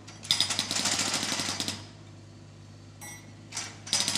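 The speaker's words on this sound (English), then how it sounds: "The clever digger can spin all the way around and hammer on the other side too." A digger's hydraulic hammer breaks pavement in rapid rattling bursts, a long pounding run followed by shorter bursts after a pause, with a low engine drone underneath.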